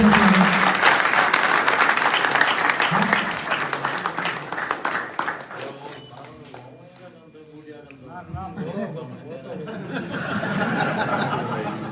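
A rally crowd in Khetri applauds to welcome a former delegate who donated 11,000 rupees. The clapping is loud and dense at first, then thins and fades under a voice, with scattered chuckles before a fresh swell of noise near the end.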